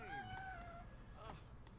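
A pet cat, awake from a nap and fixed on a toy, gives two rising meows in the first half second, then a quieter mew, heard softly beneath steady room noise and game sounds.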